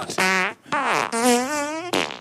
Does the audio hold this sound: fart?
yes